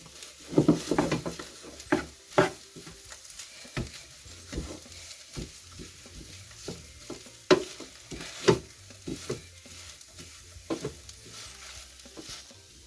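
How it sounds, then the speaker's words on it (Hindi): Potatoes and peas being stirred in a frying pan for an aloo matar snack, soft sizzling under repeated scraping strokes of a spoon against the pan, irregular and close. "आलू को मिलाते हैं।"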